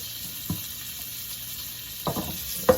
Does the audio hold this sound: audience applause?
no